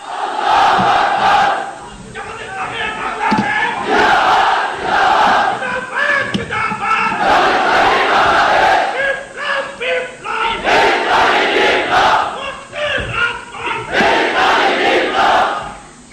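A large crowd at a Bangladeshi political rally roars in repeated bursts, answering a Naraye Takbir chant for Maulana Motiur Rahman Nizami. The loud massed shouts swell and fall several times, with brief lulls between them.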